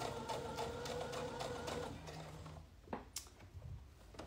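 A domestic sewing machine stitching fabric during a live sewing session, running in a fast, even mechanical rattle for about two seconds and then slowing into a few quieter, separate clicks and thumps, close and fairly faint.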